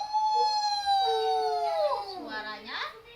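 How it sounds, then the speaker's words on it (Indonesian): A fox howls in a long, drawn-out wavering cry that bends downward and then rises again, loud and close, with no talking over it. "Mendengar lolongan itu, sang rubah pun menimpalinya."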